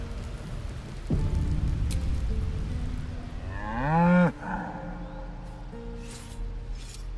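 An ox lowing in the fantasy game Baldur's Gate 3, one long drawn-out moo rising and falling over steady rain and ambient background.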